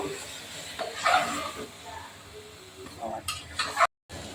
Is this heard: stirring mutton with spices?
yes